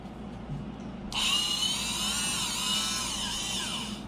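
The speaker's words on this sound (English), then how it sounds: "So the next tool you'll need is a Dremel." An old Dremel rotary tool switches on after a quiet moment and whines at high speed, its pitch wavering slightly as it runs close by, with no voices.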